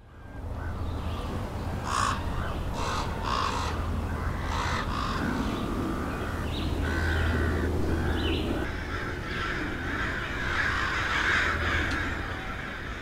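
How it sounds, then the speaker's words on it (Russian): Several crows caw in a layered outdoor ambience, repeated harsh calls scattered over a steady low rumble and background wash, at moderate distance, with no voices. "Вороны, всякие разные атмосферки."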